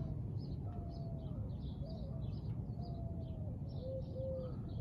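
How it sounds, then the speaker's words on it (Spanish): Several birds chirp and whistle in short, scattered calls over a steady low background hum, fairly faint and outdoors. "Y ahí se ven los pajaritos cantando."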